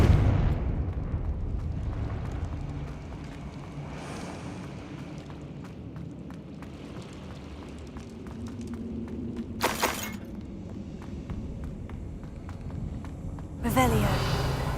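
Confringo spell blast in a Harry Potter video game, bursting as a sharp, loud explosive crack near the end after an earlier similar burst, over low rumbling ambience and game sounds.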